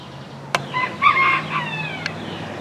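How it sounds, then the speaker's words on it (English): A small rooster crows somewhere farther off, a short thin strained call rising over a low background hum, bracketed by a couple of sharp clicks. "Did you hear that little tiny rooster down there trying to crow?"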